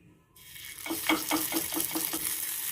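Appe batter sizzling in a hot appe pan, a soft steady hiss after a quiet start with a run of rhythmic light taps under it, close and moderately loud.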